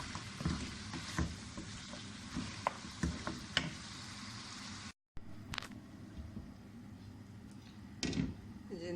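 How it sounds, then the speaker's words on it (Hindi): Goat meat for a Peshawari mutton korma fries in a pot, giving a steady close crackle with scraping and clinking stir strokes. The sound breaks off briefly midway, then the sizzle resumes. "फिर भी अच्छी तरह इसको फ्राई करेंगे ताकि इसकी स्मेल"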